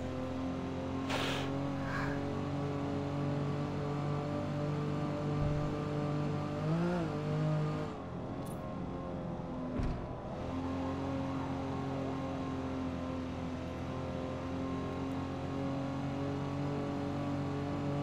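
A 1960s Aston Martin DB4 GT driven hard at the Nürburgring, its engine droning steadily through the cabin, with a brief revving shift around the middle and continuous road and tyre roar.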